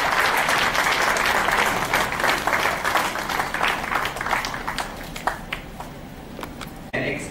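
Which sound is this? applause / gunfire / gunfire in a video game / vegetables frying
applause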